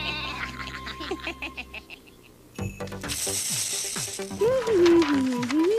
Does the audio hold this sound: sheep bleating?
yes